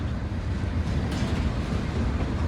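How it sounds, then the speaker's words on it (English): Freight train B-101, carrying many refrigerator cars, rolls past on the rails in Royalston, a close, loud, unbroken rumble of wheels and cars with a faint higher screech partway through. "That's who sort of owns the train."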